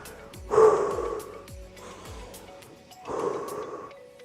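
Two deep, heavy breaths after exercise, close to the mic, each a long rushing exhale with a pause between, no talking.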